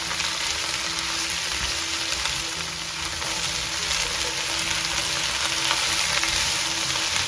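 Okra fries in a hot pan with a constant, even sizzle and soft occasional stirring movements, loud and close, with a faint steady tone running behind it and no talking.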